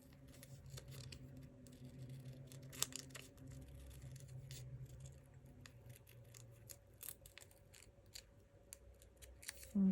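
Scissors cut out a piece of fabric for a scrappy textile art project, giving a series of soft, close snips and rustles at a steady hand pace, with a louder snip at the very end.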